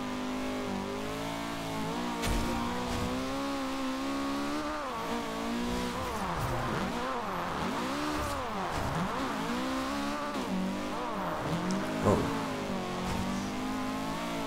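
A Honda CRX drift car in the rain in Forza Horizon 2, its engine revving continuously with rising and falling pitch sweeps as it slides through corners, loud and steady throughout.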